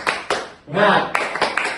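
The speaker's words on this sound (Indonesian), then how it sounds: "Tepuk semangat" A fourth-grade class claps out a short rhythmic spirit clap with a few crisp, close hand claps, broken by a voiced shout in the middle.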